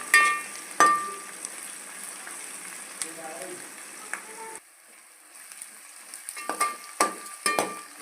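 Small onions sautéing in a pan for kara kuzhambu, with a moderate sizzle broken by sharp spatula clinks and scrapes, briefly quieter midway before stirring resumes; a voice is heard under the cooking sounds.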